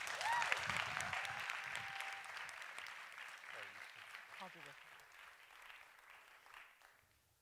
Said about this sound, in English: So a big helping of Cheltenham applause